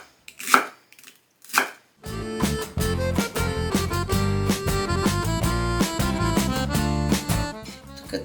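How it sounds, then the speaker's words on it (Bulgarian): Leek being chopped finely with a knife on a board, a couple of isolated cuts followed by a rapid, loud, continuous run of close chopping strokes. "Като режа пръза"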